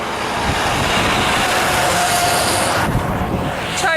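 A truck passing on a rural road in Ono, Pennsylvania, a loud broadband rumble and roar that fills the clip, peaking and then easing as it moves off near the end.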